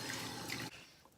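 Warm tap water running from a faucet for face washing, a faint hissing splash that cuts off abruptly partway through, leaving quiet room tone.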